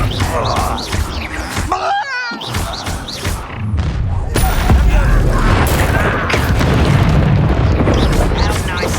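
Repeated booming blasts and thuds erupt from Confringo fire spells during combat in the video game Hogwarts Legacy, loud and close, with voices shouting over the explosions.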